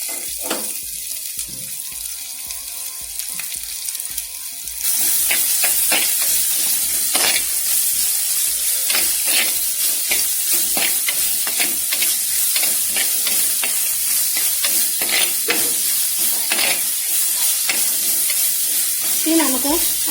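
Chopped shallots with curry leaves tipped into hot oil in a pan, setting off a loud, continuous crackling sizzle, with rhythmic scraping and stirring strokes throughout and a brief voice near the end.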